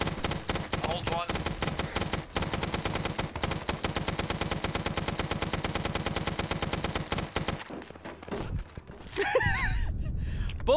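Sustained automatic gunfire in a Vietnam-era video game battle at Khe Sanh rattles in rapid, loud bursts for several seconds, then breaks off as a voice cries out and speech follows.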